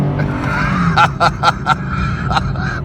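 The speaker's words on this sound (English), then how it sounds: "A little bit of wheel spin." A 2010 Nissan 370Z Touring convertible launches from a stop with traction control on, engine droning as the tires chirp in a quick run of short squeals before the car settles and pulls away.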